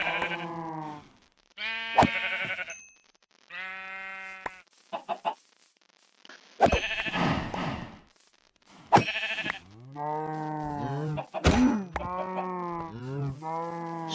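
Sheep in a Minecraft-style Skyblock video game bleat repeatedly in short, nasal calls, several distinct bleats spaced across the stretch with brief gaps, loud and close, with no talking.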